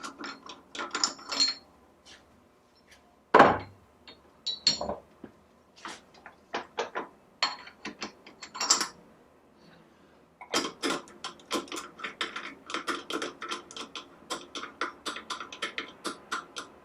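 A tap cutting threads into damaged stud holes, producing irregular clicking and ratcheting mechanical bursts with short gaps, fairly close and moderately loud, with no speech.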